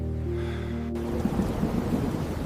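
A thunderstorm with thunder and steady rain: a low tonal hum gives way after about a second to a broad, rumbling wash of rain and thunder that stays fairly loud and even, with no voices.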